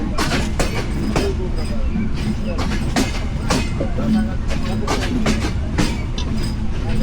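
Ekota Express passenger train pulling out of Natore station, heard from on board: a loud, steady rumble with repeated clickety-clack wheel beats over rail joints, and faint voices mixed into the noise.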